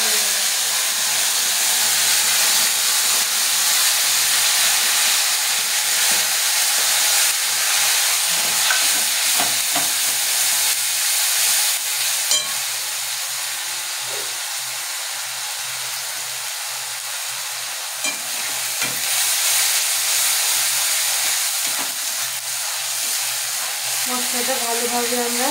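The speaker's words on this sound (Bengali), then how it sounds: "মশলাটা ভালোভাবে আমরা কষাবো।" Spice masala with whole cumin and a dried red chilli sizzling in hot oil while being stirred and cooked down, a steady dense hiss running throughout, close and loud, with faint clinks near the end.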